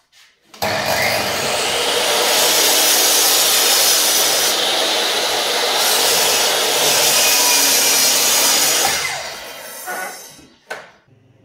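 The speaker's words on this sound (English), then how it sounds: "let's go to the miter saw, cut them up in manageable, more manageable pieces" A miter saw spins up and slices through a piece of Rhodesian teak, a loud sustained whine and rasp lasting about eight seconds before winding down with a short knock at the end.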